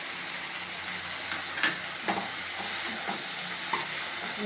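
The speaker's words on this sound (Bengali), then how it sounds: "ভালো করে নাড়াচাড়া করা হয়ে গেছে" Vegetables frying in a pan with salt added are stirred, giving a steady close sizzle broken by a few soft scraping strokes and light clinks of the spoon against the pan.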